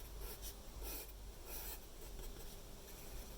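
A pencil scratches across paper while drawing small creatures at an art desk, a soft rhythmic rasp of repeated strokes, faint and close, with no speech.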